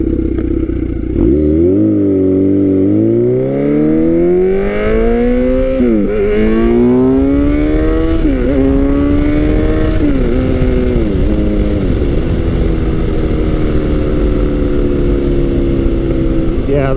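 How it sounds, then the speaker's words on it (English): Kawasaki Z900 motorcycle with an aftermarket exhaust pipe revving loudly and close, engine pitch climbing and dropping through several throttle blips over a steady rumbling idle. "As I'm sure you can hear, that pipe makes quite a bit of noise."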